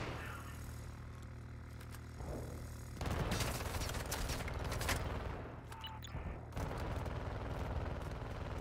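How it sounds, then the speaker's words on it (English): Sustained gunfire in the video game Call of Duty DMZ, with bursts of automatic shots and explosions rolling on and off, loud and dense throughout and without speech. "Wilson's shooting at somebody down here."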